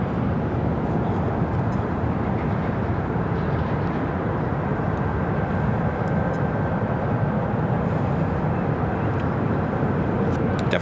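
American Airlines jet airliner taking off from Phoenix Sky Harbor airport, a dense continuous engine roar holding steady and loud throughout with a faint thin whine riding on top, no speech.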